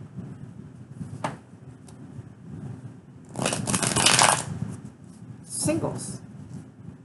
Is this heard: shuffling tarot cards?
yes